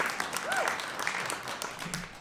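Steady audience applause fills a room at a business innovation competition, fairly dense clapping with a few distinct claps standing out and a murmur of voices beneath.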